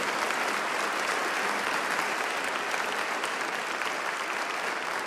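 A church congregation breaks into dense, steady applause that fills the room at an even loudness throughout, with no break and no voices rising above it.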